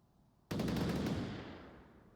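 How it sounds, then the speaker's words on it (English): A single sharp burst of gunfire in the VR shooter Onward, fired during a tournament match on a custom map, starting abruptly and ringing out with a reverberant tail that slowly fades, no talk. "Dazzler trying to shoot Nutjob here"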